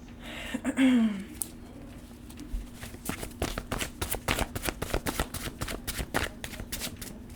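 A deck of playing cards is shuffled repeatedly, giving a close, steady run of crisp riffling flutters and snaps after a brief soft rustle at the start.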